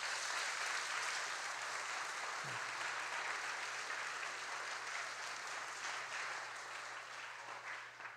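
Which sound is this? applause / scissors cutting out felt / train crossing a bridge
applause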